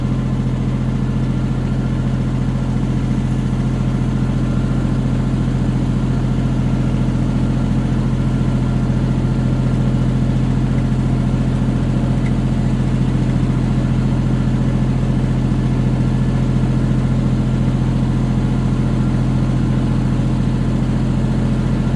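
A Kubota tractor engine idles steadily and loudly nearby, a constant low droning hum with no change in pace.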